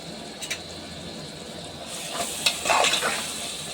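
A spoon stirs ginger and small-onion paste into a simmering egg curry, giving soft scraping and gentle sizzling that grows louder toward the end, with no talk.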